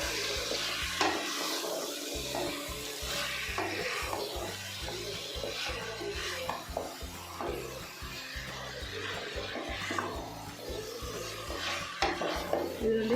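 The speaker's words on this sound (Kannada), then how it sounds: "ಇದನ್ನು ಚೆನ್ನಾಗಿ ಫ್ರೈ ಮಾಡ್ಕೋಬೇಕು." Marinated chicken fries in plenty of oil with curry leaves, a steady sizzle under repeated rhythmic scraping and stirring of a spatula against the pan, close up with no talking.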